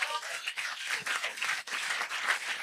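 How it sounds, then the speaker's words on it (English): A small audience at a marketing business talk gives a round of applause, fairly quiet and a little distant, a steady patter of clapping hands lasting a few seconds. "How about a round of applause?"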